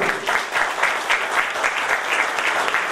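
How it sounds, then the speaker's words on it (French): Applause at a political meeting, a room of people clapping in a rhythmic, pulsing pattern that stays steady for about three seconds. "Je pense notamment à notre ami Jackie Blanc, l'ancien secrétaire départemental, que l'on peut applaudir"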